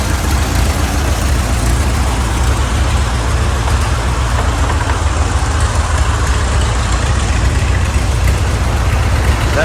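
A 1950 Ford 8N tractor engine idles loud and close, a steady low rumble with an even rough chug throughout.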